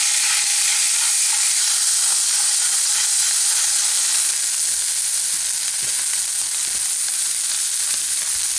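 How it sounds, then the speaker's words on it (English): Pork chops searing in a hot frying pan, a dense, continuous bright sizzle and crackle of fat, close and steady throughout with no voices. "Sit there a good couple of minutes. You want to get a nice, good sear on it."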